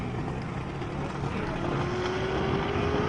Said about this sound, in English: Sounds like a V8.